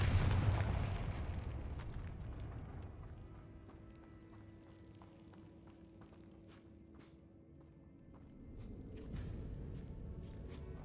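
A Confringo spell explosion in the Hogwarts Legacy video game on PS5: a low, rumbling burst that fades into a quieter hum, then a few sharp pops near the end, with no talk.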